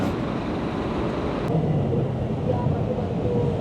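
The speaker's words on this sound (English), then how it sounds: "Kuala Lumpur train passing by." A Kuala Lumpur train passes by outside a moving sightseeing bus, giving a steady loud rumble with broadband noise and no pause throughout.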